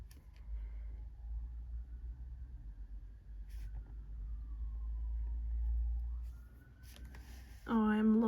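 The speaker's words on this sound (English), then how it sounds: "Can hear another emergency vehicle coming." Emergency vehicle siren passing outside, a faint rising and falling wail far off behind a steady low traffic rumble, with a louder, closer siren tone swelling in at the very end.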